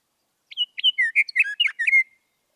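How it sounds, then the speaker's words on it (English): A single bird sings a short, clear phrase of quick whistled and chirping notes, played from a phone app, about a second and a half long, with silence around it. "click the audio button on the left to hear their song"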